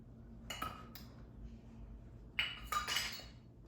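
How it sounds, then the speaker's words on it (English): Metal whisk clinking against a bowl while 5 cups of flour are mixed for a big batch of peanut butter chocolate chip cookies, a few short, light taps and scrapes in two brief bursts over a quiet background. "the first thing we're going to do is whisk in a bowl 5 cups of flour"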